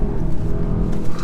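An Audi RS3 engine revving and accelerating, a steady low rumble that holds at a fairly constant level through the short stretch, close by, with no voices over it.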